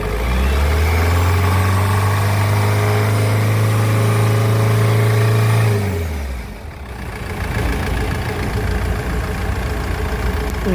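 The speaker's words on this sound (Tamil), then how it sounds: "இன்ஜின் பாருங்க இன்ஜின் நாய்ஸ் கேக்குறீங்க" A Mahindra Xylo engine runs loud and steady with a deep droning hum for about six seconds, then drops off, and a rougher, irregular engine noise continues afterward, with no talking.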